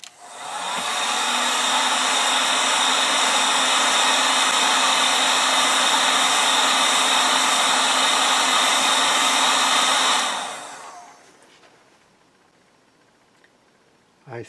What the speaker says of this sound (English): I hit the plate with the heat gun to see what the effect would be